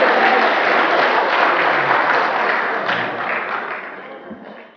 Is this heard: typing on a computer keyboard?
no